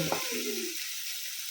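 Tomatoes frying in a pan give a soft, steady sizzling hiss, with a brief tonal chirp at the start.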